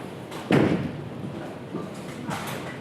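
A bowling ball strikes the pins in a competition final, a sudden loud thud and crash that fades into a lingering rattle, with a smaller knock following a moment later.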